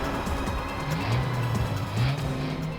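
A car swings around in a sharp turn, tires squealing in rising and falling whines over the engine's rumble, fairly close and steady.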